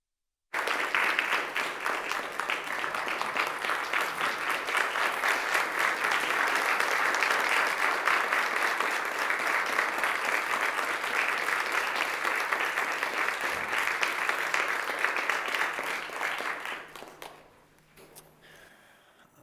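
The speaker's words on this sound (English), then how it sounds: "So if you could join me in giving all of them a round of applause." Sustained applause from an assembly floor session crowd honoring the staff, a dense wash of many hands clapping steadily for about sixteen seconds before tapering off into quiet room tone.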